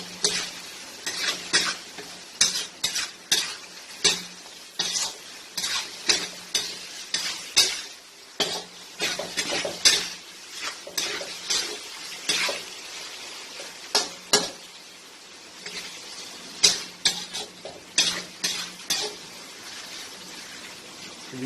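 Chicken coated in ginger garlic paste stirred in a hot pan, with a steady sizzle under repeated scraping and clinking of a utensil against the pan, fairly close and without talk.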